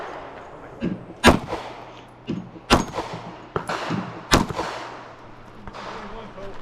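Compact handguns fired at a shooting match: several sharp, loud reports spaced about a second apart, each with a short outdoor echo, over faint background noise.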